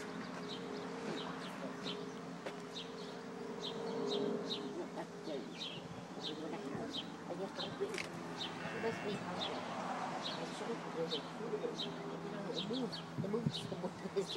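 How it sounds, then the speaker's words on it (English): Birds chirp and coo in a quiet outdoor setting, with many small repeated calls scattered over a faint steady background, along with a low indistinct voice. "Here's all the birds now."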